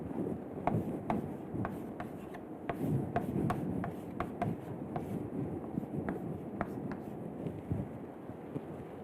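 Chalk or marker scratching out an equation on a lecture board, a run of short strokes and taps in an irregular rhythm over a steady roomy background hum.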